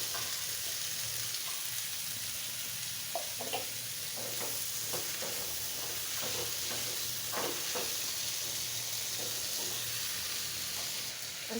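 Stems, potatoes and a cumin, ginger-garlic and green chili paste fry in a pan with a soft continuous hiss while a utensil scrapes and taps in an irregular rhythm; fairly quiet, no talking.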